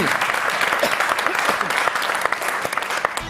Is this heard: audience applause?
yes